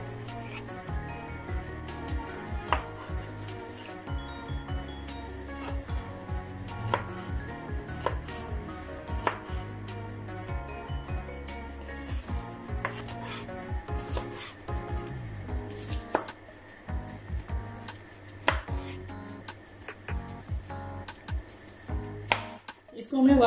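A knife cuts partly frozen liver into cubes on a board, repeated dull chopping knocks and scrapes at an uneven rhythm, close by with a steady background hum.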